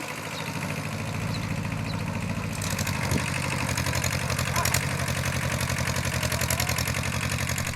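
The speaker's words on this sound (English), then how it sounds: "it's time to drive the tractor and go and find some piles of dirt so we can fill up the raised bed" A tractor engine runs close by with a steady low rumbling chug, idling evenly and then growing a little louder and rougher as it works, continuous throughout.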